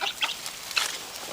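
A bantam Partridge Rock rooster and his hens cluck in a few short, close bursts over a quiet background.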